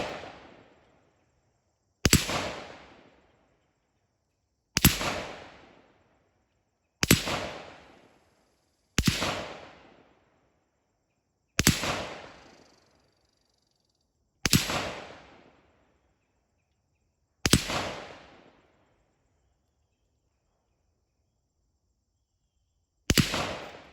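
Eight sharp AR-15 rifle shots ring out one at a time at irregular intervals, each loud crack decaying quickly, fired at steel gongs 100 yards away in cold weather, with no talking between them.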